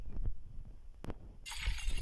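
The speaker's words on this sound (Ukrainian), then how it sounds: "Так, супер, розбиваємо вікно." Window glass smashes in the video game Dark Riddle: a sudden bright, crashing shatter that stays loud and sustained to the end, preceded by a couple of dull thuds.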